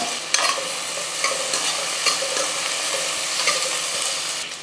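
Onions and curry leaves sauté in a pan, a steady close sizzle with occasional clicks and scrapes of stirring, moderately loud and uninterrupted by speech.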